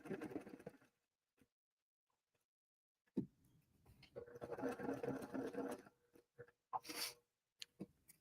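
A sewing machine stitches a quilt block in short, quiet bursts, with a brief run near the start and a longer steady whir later, separated by pauses and small clicks of fabric handling.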